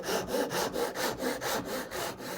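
A hand saw cuts through wood for a dovetail joint in steady back-and-forth strokes, about ten even rasping pulses, close and fairly loud with no talking.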